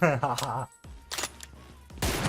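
Gunfire in the mobile battle-royale game PUBG Mobile, short sharp bursts of shots between and under excited speech.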